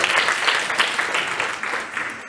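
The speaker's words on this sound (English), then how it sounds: "He actually deserves applause." Audience applause at an Omega Institute presentation on Cognitively-Based Compassion Training, a steady dense wash of many hands clapping that fills the whole stretch at fairly even loudness, with no clear voices on top.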